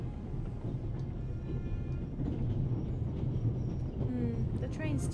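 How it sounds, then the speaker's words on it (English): Train rumble in the video game The Raven, a continuous low rolling rail noise with faint rattles, steady and moderately quiet, with a few brief higher tones near the end. "because the train is a little bit noisy"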